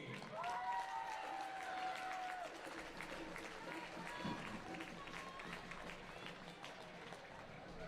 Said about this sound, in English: how about a round of applause for our 6th grade youth basketball team?